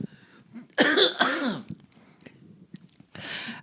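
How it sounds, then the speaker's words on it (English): Harsh chest coughs from a man, a loud burst of two or three hacks followed by a quieter pause and a final rough cough, close to the microphone with no talking. "The cleanse shows itself to me in the form of a cough."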